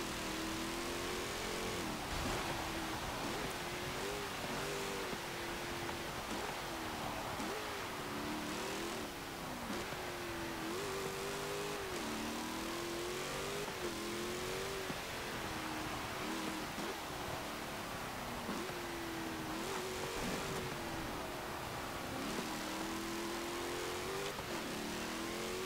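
A 2018 Jeep Grand Cherokee Trackhawk races around a circuit in Forza Motorsport, its engine droning loud and steady with rising and falling revs through gear changes and corners, continuous with no talk.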